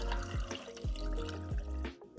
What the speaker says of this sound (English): We're gonna add in some water.